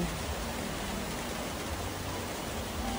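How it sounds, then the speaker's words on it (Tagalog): Steady rain falls in a dense, continuous hiss across the whole stretch, loud and even with no pauses, heard on an afternoon around half past three. "Last 3:30 pa guys, pero nag-ulan na."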